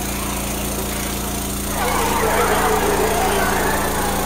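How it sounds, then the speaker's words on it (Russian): A boat's small engine in Left 4 Dead 2's Swamp Fever campaign drones steadily and swells louder partway through as it draws nearer, a buzzing motor approaching with a faint hum beneath. "Лодка приближается!"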